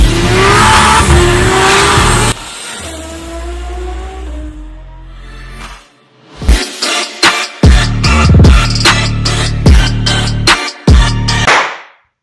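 A Peugeot Partner car is heard with loud engine revs and tire squeals in quick, choppy bursts over the second half, after a rougher stretch of road noise, with no talking.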